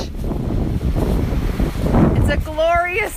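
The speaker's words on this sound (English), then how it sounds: "It's a glorious, glorious windy day." Wind gusting on a beach on a blustery day, a loud rough rumble buffeting the microphone throughout, with a person's voice briefly breaking in near the end.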